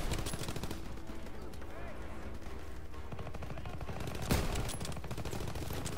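Rapid bursts of rifle fire crackle through a dense, busy video game soundscape, with one sharp louder shot standing out near the end.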